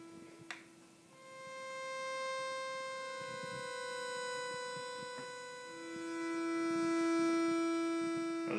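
Sustained spacey dubstep-style synthesizer pad with a softened envelope attack, steady harmonic tones swelling gently in loudness and holding on alone with no voices.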